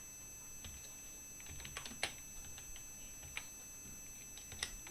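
Someone types on an unfamiliar computer keyboard while searching for a Pokémon, giving scattered, quiet key clicks in an irregular rhythm with short bursts and pauses, close by with no talking.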